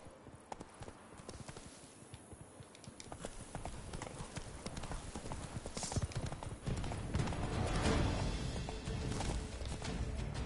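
Hooves of Roach, a horse in The Witcher 3, clip-clopping in a steady brisk rhythm that grows louder and more driving toward the end, with no talk over it.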